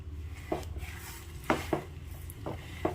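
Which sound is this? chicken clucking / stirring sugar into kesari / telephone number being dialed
stirring sugar into kesari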